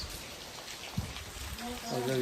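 Heavy rain pours down in a steady, hissing wash that stays fairly soft and close throughout, with a voice starting to talk near the end.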